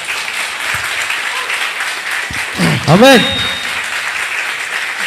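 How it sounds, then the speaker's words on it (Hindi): A church congregation applauds in a steady, loud wash of clapping that fills the room. A single voice speaks briefly, and a swooping tonal sound rises and falls near the middle. "आप ताली बजा सकते हैं।"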